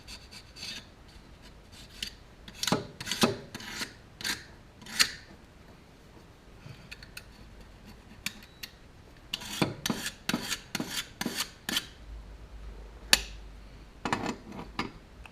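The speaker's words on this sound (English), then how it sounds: "just scraping the stuff off" Old gasket material scraped off a carburetor surface from a 1966 Ford Galaxie 500 during a rebuild, heard as quiet, close rasping strokes in short bursts with pauses between groups.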